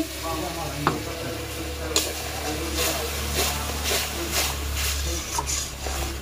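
Water poured into a pan of fried spices for a goat meat curry sizzles and hisses steadily, with stirring scrapes and a few sharp clinks over about six seconds.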